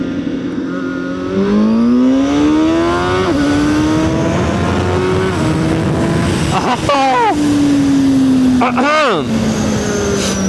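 A CFMOTO 750SR-S sport motorcycle on a street ride, engine droning loud and close as revs climb, drop and surge with gear changes, wind rush throughout and a rider talking over it.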